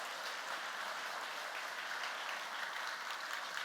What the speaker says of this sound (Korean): 다시 한번 박수를 드립니다